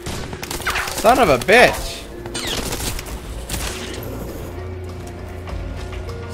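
Automated turret gunfire in the video game Crysis 3, sharp bursts of shots with mechanical clatter early on, then a sustained electronic hum and game ambience; someone speaks briefly.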